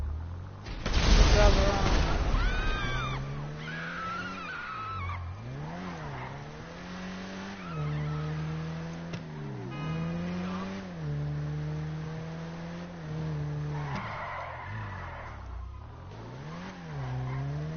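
Engine drone and tire skids from a car driven around in the GTA 5 video game, with a loud screech early on and shifting revving tones afterward, under quiet game sounds.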